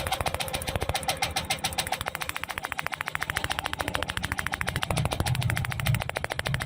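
A Yamaha Aerox scooter with a stalling problem cranks on its push-button starter, giving a rapid, steady mechanical chatter that runs close and loud for several seconds without catching, with no talk over it.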